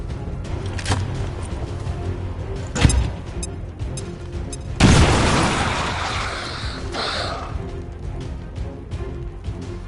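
Bomb blasts in the video game XCOM 2: a sharp crack, then a loud booming explosion with a long rumbling decay, amid scattered smaller impacts.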